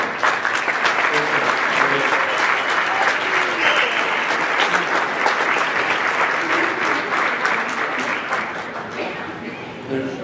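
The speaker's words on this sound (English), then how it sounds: "How about another round of applause for our chorus that was there?" An audience gives a high school chorus a loud, sustained round of applause at a school band and chorus concert. Dense clapping fills the hall without pause and fades slightly at the end.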